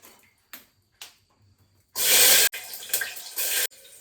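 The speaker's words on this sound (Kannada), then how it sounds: "ಈರುಳ್ಳಿ ಮೆಣಸಿನ್ಕಾಯಿನೂ ತೊಳ್ಕೊಂಡೇ ಇಲ್ಲ ನಾನು." A kitchen tap runs while onions and green chillies are rinsed, starting with a few short splashes before a strong gush of water, then uneven spurts and trickles as the vegetables are washed.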